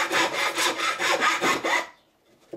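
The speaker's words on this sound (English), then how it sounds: "So take the rasp." A rasp filing an ash axe handle for a Viking-style axe, about seven rhythmic rough strokes scraping wood up close, then stopping with a faint knock.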